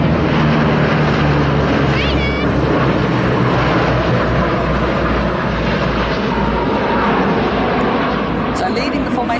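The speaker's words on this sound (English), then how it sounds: "So leading the formation, we have our Boeing 757." A Boeing 757 leads a formation flypast at an air show, its jet roar loud and steady throughout, filling the air without a break.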